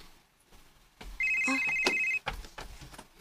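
A mobile phone's electronic ringtone chirps in a short repeated burst indoors, faint and alone, with household shuffling before and after.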